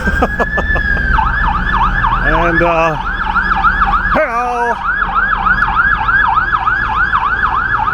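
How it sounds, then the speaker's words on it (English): A loud emergency vehicle siren wails and yelps in a fast repeating cycle close by on Yonge Street in downtown Toronto, briefly broken by deep horn blasts, while a voice speaks once. "And whoa, there's a siren."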